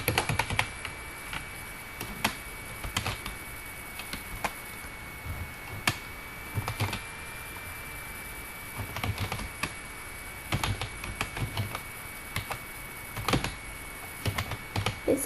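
Keys clatter on a computer keyboard as text is typed into an MS Word document, steady bursts of close, soft clicks broken by brief pauses and a few sharper key strikes, with no voices.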